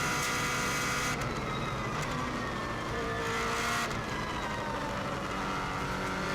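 A rally car runs alone on the Isle of Man road circuit, its engine a loud, continuous close roar with shifts in pitch as it accelerates and changes gear.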